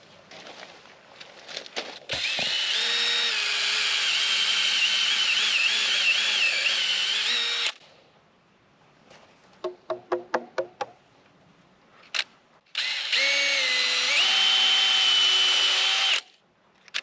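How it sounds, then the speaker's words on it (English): Cordless power drill pre-drilling and driving screws into the end of wooden boards while building a wall frame, two long close whirring runs with rising and falling pitch separated by a burst of short trigger bursts and knocks. "You're also going to notice that I'm pre-drilling."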